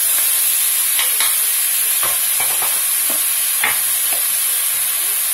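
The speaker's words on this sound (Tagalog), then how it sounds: "Halo na po yung itlog." Egg and yellow chives stirred in a hot pan give a steady frying sizzle broken by scattered scrapes and clicks of the spatula, with no talking.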